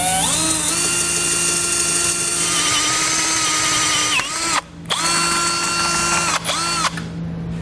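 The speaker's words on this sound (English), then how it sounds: "I'm going to take a somewhat small drill bit just to start the hole as a pilot hole" A small drill bit whines at high speed as it bores a pilot hole through the frame rail of a 2015 Chevrolet, holding a steady pitch with brief dips and stops as the bit bites and breaks through.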